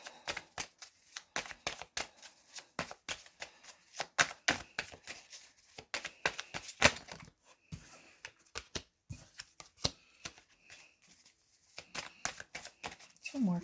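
A deck of tarot cards being shuffled and handled in a series of quick, crisp riffles and slaps, close and fairly quiet, with soft pauses between bursts.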